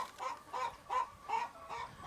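An angry hen in a hen house clucks in a steady, agitated rhythm of about five loud bursts, moderately close, with no talking over it.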